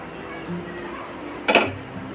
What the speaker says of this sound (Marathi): झाकण काढूया